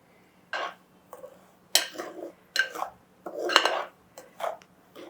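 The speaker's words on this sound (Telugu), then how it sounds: "ముందుగా రవని కొంచెం వేపుకోవాలండి. రవ ఇందులో వేసుకొని" Rava (semolina) roasting in a pan, stirred in a series of separate metallic scrapes and clinks of a spoon against the pan, close and fairly loud with short pauses between strokes.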